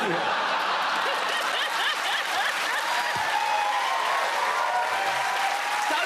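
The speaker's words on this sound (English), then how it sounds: "Don't applaud that." A comedy panel show's studio audience applauds in sustained, dense clapping mixed with scattered chuckles and laughter, loud and continuous throughout.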